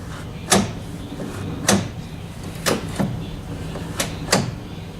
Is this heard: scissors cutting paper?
no